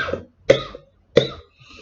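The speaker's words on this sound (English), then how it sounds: "I'm coughing so much." Two sharp, close coughs follow a softer throat sound, each a brief harsh burst separated by short silences.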